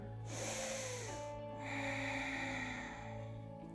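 Deep, steady breathing during an evening yoga session, with long drawn inhales through the nose, close and fairly loud, repeating in slow cycles with no talk.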